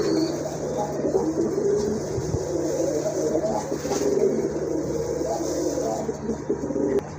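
Pigeons at a seller's loft, including a pair of silver-coloured birds and a pair of pink-beaked Rajgolla pigeons, coo steadily in a continuous low murmur over a constant background hum, with no talking.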